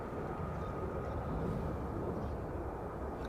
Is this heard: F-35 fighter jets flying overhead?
yes